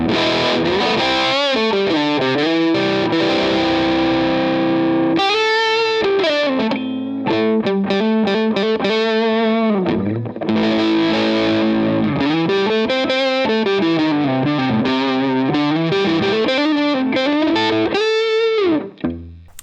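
Electric guitar running through a DIY clone pedal with its tone knob turned up, playing distorted chords and bending lead phrases continuously for about twenty seconds, loud and upfront with no talking.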